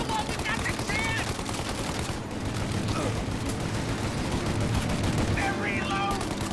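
Bursts of gunfire in a Mafia: Definitive Edition shootout rattle continuously, with rapid machine-gun volleys and scattered shots, loud and close, while shouted voices break in between the bursts.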